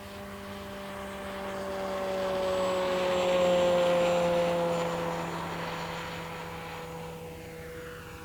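RC model Kavan Bristell B23 1600mm plane making a full speed pass and climb, its electric propeller whine rising as it approaches, peaking overhead, then fading and shifting pitch as it pulls away, with no talk.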